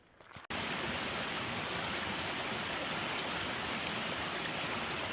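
A stream of water running beside a hiking trail near Bottleneck Lake, a steady close rushing wash that starts abruptly after a brief quieter moment and continues evenly.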